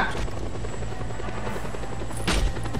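Helicopter in the video game Just Cause 2, a steady loud rotor drone with low thumping and engine whine running throughout, swelling briefly near the end.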